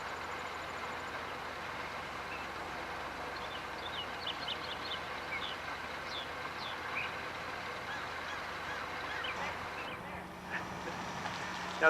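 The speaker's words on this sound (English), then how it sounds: "these are some cackling geese" Cackling geese and a duck honk and chatter faintly at a distance, small scattered calls rising over a steady, noisy outdoor background hum.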